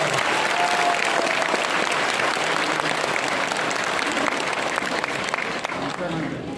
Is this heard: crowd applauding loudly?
yes